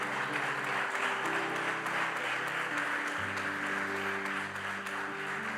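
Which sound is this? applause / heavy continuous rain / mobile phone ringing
applause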